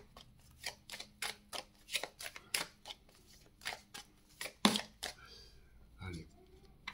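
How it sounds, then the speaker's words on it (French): Oracle cards being shuffled and drawn by hand, a run of crisp, quick card snaps and flicks in an uneven rhythm, close and fairly quiet, with a brief voice near the end. "Je vais retirer une carte."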